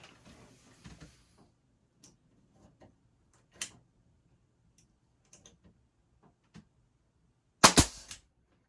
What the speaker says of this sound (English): now we're gonna nail it. So I'm gonna grab the gun.